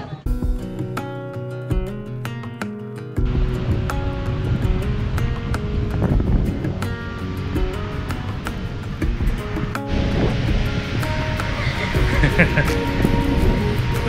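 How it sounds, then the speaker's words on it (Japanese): Ocean waves rolling onto a seashore, a continuous broadband wash of surf mixed with wind buffeting, with voices and some tonal sounds at the start before the surf takes over loudly. "海だ、本格的な海"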